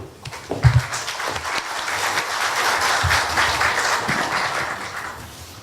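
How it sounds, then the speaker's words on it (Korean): Audience applause greeting the Korea University president before his lecture at a forum, a dense, steady wash of many hands clapping that swells after a few louder claps and holds to the end. "환영의 박수, 격려의 박수 부탁드리겠습니다"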